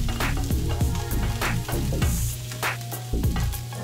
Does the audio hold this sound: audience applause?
no